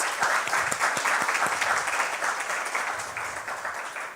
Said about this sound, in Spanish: Si le damos un aplauso a Dios.